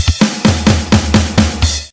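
A real drum kit plays a steady beat at standard tempo, with punchy kick and snare hits repeating evenly about every quarter second under sustained cymbal wash, loud and close.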